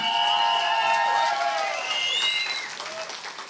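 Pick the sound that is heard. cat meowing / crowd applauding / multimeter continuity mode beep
crowd applauding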